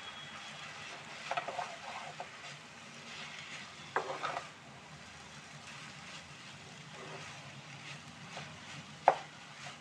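Maggi Hakka noodles being stirred and mixed in a pan make soft scraping strokes over a low hiss, with a few sharper clacks of the utensil against the pan and no talking.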